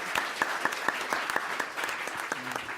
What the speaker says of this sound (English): Give him a big applause again,